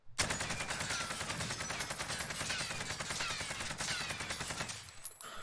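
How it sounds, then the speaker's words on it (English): A rifle with a SUSAT scope fires in rapid, continuous automatic bursts in Warzone, a dense run of close, sharp shots lasting several seconds before cutting off, with no talk. "we're going to blast all 45 rounds into here without trying to control the recoil"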